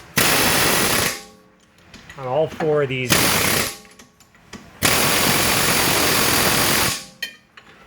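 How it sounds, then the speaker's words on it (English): Loud pneumatic hammering from an air hammer with a hammer bit comes in long rattling bursts on a 2014-2017 Subaru Crosstrek rear wheel bearing, separated by pauses where someone speaks briefly. "I got a hammer bit on my air hammer."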